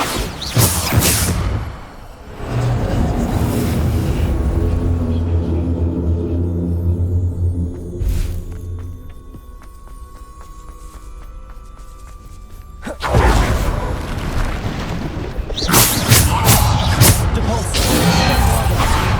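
Bombarda explosion spell cast in Hogwarts Legacy, a loud burst and rumble opening the stretch, a sustained humming drone in the middle, then more crashing blasts near the end, with spoken voices at times.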